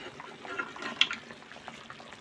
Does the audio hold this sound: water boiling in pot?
yes